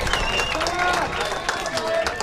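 A crowd at a football semi-final cheers and claps after a goal, a short burst of noisy applause and shouting with a commentator talking over it.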